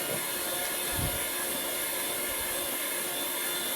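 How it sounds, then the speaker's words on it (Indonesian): Electric hand mixer beating sweetened condensed milk into sponge cake batter, a steady close whirring drone that runs unbroken from start to finish with no talk. "aduk kembali adonannya dengan menggunakan mixer dengan sampai sempurna"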